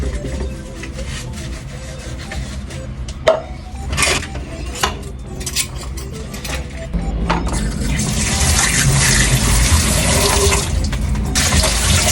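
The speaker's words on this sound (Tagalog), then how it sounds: "Tuturuan ko naman kayo ngayon ng tamang paghuhugas ng pinggan." Dishes washed under a running kitchen tap: water splashes and dishes clatter at first, then the flow gets louder and steadier as rinsing goes on, close to the microphone.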